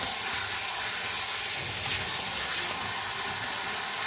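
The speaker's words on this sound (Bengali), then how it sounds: "এবার এটার মধ্যে ওই যে কড়াইতে যেটা ছিল ধনে পাতা আর টক দইয়ের যে ফুটিয়েছিলাম যেটায়, সেইটার যে জলটা" Coriander and yogurt water poured into a hot pan brings a steady, loud hiss and sizzle that holds evenly throughout without a break.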